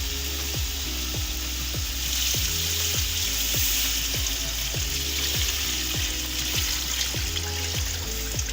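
Mutton broth (yakhni) is poured into a hot cooking pot and sizzles loudly and steadily, with a dense frying hiss and rhythmic clicking or stirring taps throughout and no talking.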